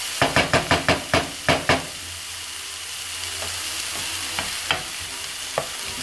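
Onions frying in a pan for white lemon linguine, a steady soft sizzle under a quick run of utensil knocks against the pan, then sparse taps as stirring slows.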